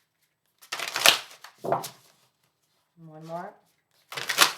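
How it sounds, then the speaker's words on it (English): Tarot cards are shuffled by hand in quick, crisp riffling bursts, two close together and another after a pause, with a brief spoken voice in the gap. "Sorry, I need to shuffle again."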